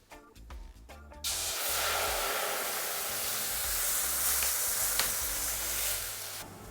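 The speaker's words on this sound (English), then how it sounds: "for the cream you really want to have a super hot pan and add the cream little by little" Cream is added to a super hot pan to reduce and caramelize. It bursts into a loud, steady hiss and sizzle after a few soft clatters, then holds close and continuous.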